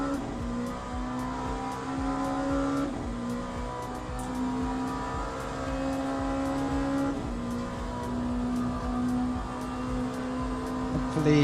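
A prototype race car in the sim game Le Mans Ultimate drones with a steady high engine note that rises and falls through gear changes, and a voice talks faintly over it.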